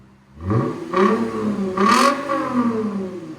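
A 2008 Lexus IS 250 2.5L V6 revs hard with its Valvetronic muffler valves open, three quick throttle blips rising and falling into a deep, raspy exhaust note, close and loud.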